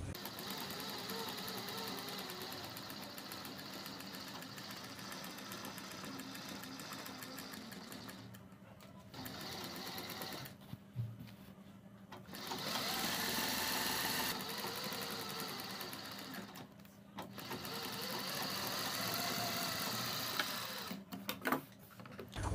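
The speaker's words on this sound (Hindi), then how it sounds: "अब हम बुकरम के बराबर बराबर सिलाई लगाएंगे अपने पूरे नेक में" A sewing machine stitching along buckram around a kurti neckline, a close, fast mechanical whir running in long bursts separated by short pauses.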